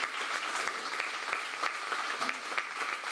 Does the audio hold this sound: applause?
yes